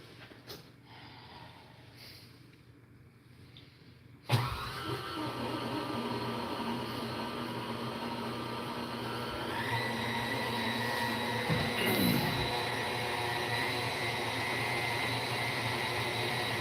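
An electric mixer beats wacky cake batter, starting abruptly with a loud steady whir that runs on close and unbroken, its pitch shifting slightly as it works through the bowl.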